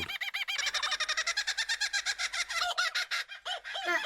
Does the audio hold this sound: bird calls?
yes